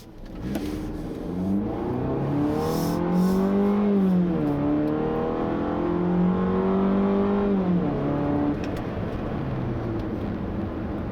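A 2016 Fiat 500X Trekking engine in sport mode revs up and down in long sweeping rises, a steady droning growl that climbs in pitch, drops, then climbs again, heard from inside the vehicle.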